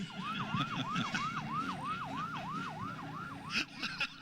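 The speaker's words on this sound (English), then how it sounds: "Red light and siren." A loud wailing siren sweeps up and down in a fast repeating cycle, close by, with a little traffic noise underneath.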